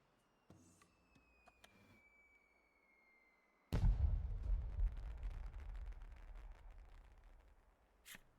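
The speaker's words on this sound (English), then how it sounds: "I should like to set off some fireworks then, in honor of the dead." Fireworks go off in a video game, a sudden loud burst followed by several seconds of dense, crackling rumble that slowly fades, preceded by faint tones and clicks.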